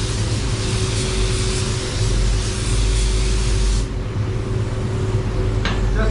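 A spray gun lays a coat of silver paint on a car bumper, producing a loud steady hiss over a low rumbling background that briefly dips partway through before continuing.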